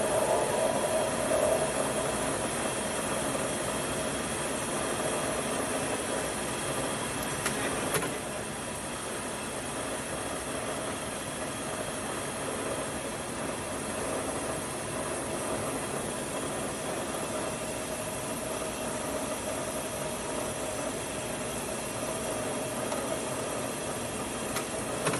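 A Swiss-type screw machine runs steadily in a production setting, a continuous broadband mechanical drone with a faint high whine, holding an even level for the whole stretch with a brief clatter partway through and no talking.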